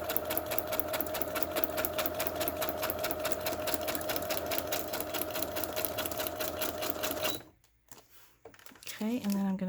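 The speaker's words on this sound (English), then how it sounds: "So now I'm just stitching a straight line" A sewing machine runs a straight line of stitches through tightly held plastic, a fast even mechanical chatter that stops abruptly near the end before a voice speaks.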